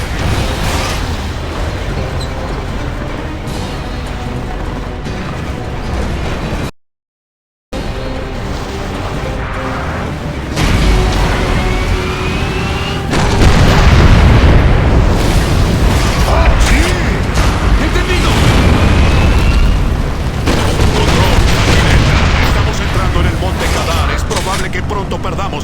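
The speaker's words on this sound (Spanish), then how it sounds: "¡Dispara a la torre! ¡La torre está a punto de caer!" In the Gears of War 2 video game, a tower is shot down amid heavy booming explosions and mechanical rumbling, with a brief silent gap partway through and voices talking over the action.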